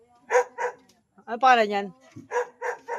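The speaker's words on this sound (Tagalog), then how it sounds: "kahol ng aso" Dog barking in a home setting: a few separate barks near the start and more at the end, close and fairly loud, with someone speaking in the middle.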